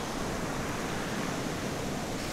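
Ocean waves breaking on a shore, a steady broadband wash of surf with no clear individual crash, moderately faint and continuous.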